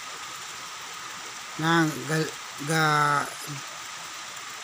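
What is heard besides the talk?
heavy rain falling on banana plantation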